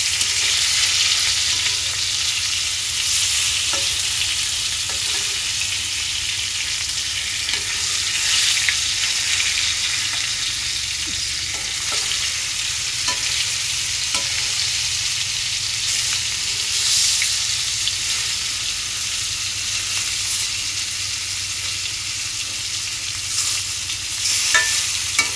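Frying with stirring in a pan, a steady broadband sizzle with scattered scrapes and clicks of the utensil throughout, close and continuous with no talking.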